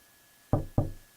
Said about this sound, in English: I entered the dressing room that connected to the toilet and knocked on the door.